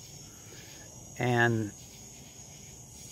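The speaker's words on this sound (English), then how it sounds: "I'm just sitting out at night listening to the crickets." Crickets chirp at night in a steady, faint high-pitched trill that runs throughout, with someone briefly speaking over it.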